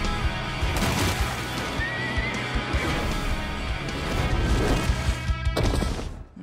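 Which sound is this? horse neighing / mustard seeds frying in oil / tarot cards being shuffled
horse neighing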